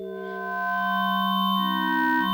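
A sustained synthesizer tone with buzzy harmonics that shifts pitch and timbre twice, growing slightly louder, with no voices.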